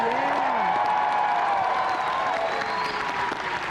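A comic convention panel audience breaks into sustained, dense applause that fills the room, with crowd noise running throughout.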